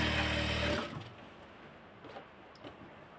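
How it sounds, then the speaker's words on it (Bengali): A sewing machine stitches the seams of a salwar, a close, steady mechanical whir that stops abruptly under a second in, followed by quiet handling sounds. "সব জায়গায় ডাবল করে সেলাই দিচ্ছি"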